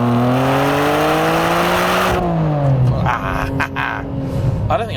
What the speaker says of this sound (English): You don't even need to really rev it out.